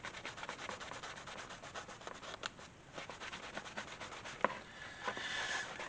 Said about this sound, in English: I'm just lightly buffing with the dry edge or the dry side of the cloth.